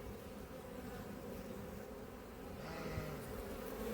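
Honeybees hum around an opened hive box in an apiary, a faint, even drone with a bee or two passing nearer toward the end; no voices.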